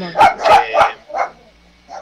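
A small female dog barks four or five times in close, sharp bursts, with a last short yip, during a casual indoor conversation among friends.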